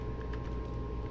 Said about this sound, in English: So you just type that in, click search, and ta-da, it appears.